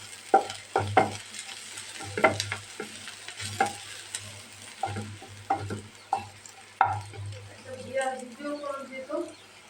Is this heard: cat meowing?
no